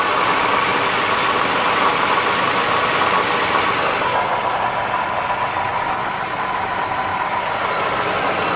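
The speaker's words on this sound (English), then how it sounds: "It's making a grinding sound. And this is inside the cabin when the engine's already running." A 2011 Toyota Sienna engine running, recorded inside the cabin, with a steady dense grinding drone from a worn pulley, loud and continuous without talk.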